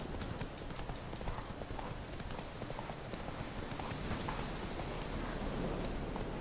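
Hooves of Roach, the horse in The Witcher 3 video game, clip-clopping steadily through heavy rain, the hoofbeats blended into a constant hiss of rainfall at a fairly even level throughout.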